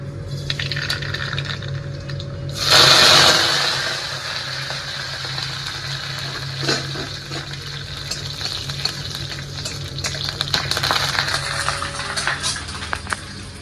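Green chilies dropped into hot oil for tempering burst into a loud, crackling sizzle, then settle into a steady frying hiss with scattered pops and spatters for the rest of the moment.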